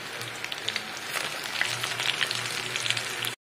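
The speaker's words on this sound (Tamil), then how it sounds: "இப்போ மாவு எடுத்துட்டு இந்த மாதிரி உதுத்துட்டு போட்டுக்கோங்க." Mushroom pakora batter fries in hot oil, a steady crackling sizzle with a dense spray of tiny pops running throughout, fairly close and uninterrupted, before cutting off abruptly.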